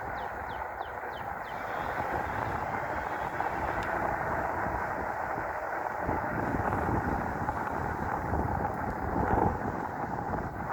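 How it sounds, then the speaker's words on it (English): Steady, roaring wind buffets the microphone while riding a bike into the wind, a loud continuous rumble with no pauses, outdoors in strong gusts. "Yeah, it's really windy."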